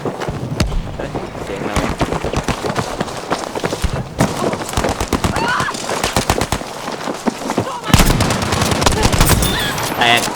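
Rapid bursts of gunfire in the shooter game Battlefield V, sniper shots among sharp repeated cracks from a continuous firefight, loud and dense across the whole stretch.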